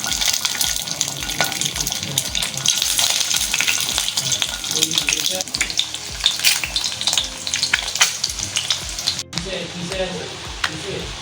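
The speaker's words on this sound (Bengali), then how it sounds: "এই যে ডিমগুলো ভাজা হয়ে গেছে, উল্টো পিঠটাও ভেজে নিয়েছি" Eggs frying in hot oil in a pan, a steady crackling sizzle that runs loud and close throughout with scattered sharp pops and no talk.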